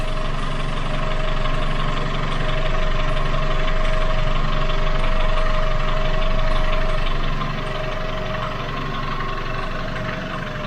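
A Chevrolet Aveo engine idles with a steady, loud hum, constant low drone and faint rattling vibration, running without pause and no voices; the car runs poorly and its throttle body is under diagnosis.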